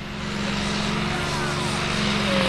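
A custom-built tractor with a six-cylinder Deutz engine pulls at a tractor-pull event in Friesack, its engine a loud, continuous droning roar that stays steady and swells slightly toward the end.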